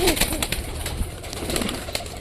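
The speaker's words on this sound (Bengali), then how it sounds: "এইবার আমাদের সব কটা পায়রা বাইরে আসবে" Pigeons coo softly in a loft as they are let out, a few close murmuring calls over faint shuffling and clatter.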